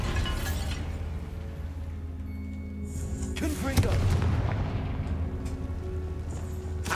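A Bombarda blasting spell goes off in Hogwarts Legacy, a booming explosion with crumbling debris in the middle of a steady game backdrop, a voice faintly present around it.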